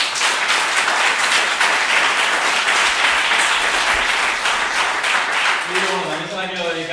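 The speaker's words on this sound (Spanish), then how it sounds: "lo que voy a pedir para comenzar es un fortísimo aplauso para todos ellos." Loud, sustained applause from a large audience at an education and entrepreneurship event, dense and steady throughout, with a voice starting to speak over it near the end.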